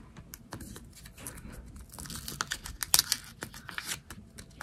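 A paper blister pack of Zofran medicine is torn open by hand, a close, quiet series of crinkling and tearing crackles that builds into a brief sharper rip.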